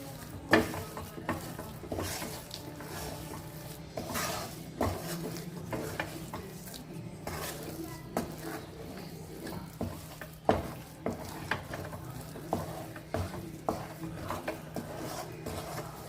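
Moong dal halva with jaggery is stirred in a pan over medium flame, with repeated scraping and knocking strokes of a spoon against the pan over a low, continuous sizzle for the whole stretch.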